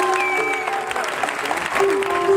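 A church congregation claps loudly in a steady, dense burst of applause to acclaim Jesus, close and continuous, with voices and tonal sounds mixed in.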